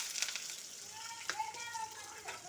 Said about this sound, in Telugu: నూనె కాగింది. దాంట్లో పచ్చెనపప్పు, మినప్పప్పు, జీలకర్ర, ఆవాలు,